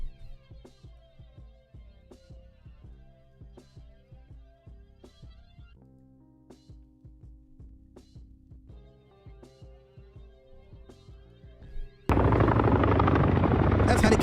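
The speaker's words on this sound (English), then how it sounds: "He's on a Chinook helicopter." A US Army Chinook helicopter arrives as a loud, steady broadband roar that cuts in abruptly after a stretch of rhythmic music and holds for the final couple of seconds.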